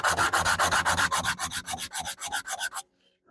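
Wood for a deck box being hand-sanded in quick, steady back-and-forth strokes, loud and close, about a dozen rasping passes before stopping abruptly into silence.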